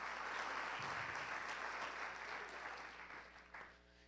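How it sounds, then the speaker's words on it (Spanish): A church congregation applauding during worship, a broad wash of clapping that is steady at first, then gradually thins and softens toward the end, heard at moderate distance in a reverberant hall. "Denle un fuerte aplauso al Señor."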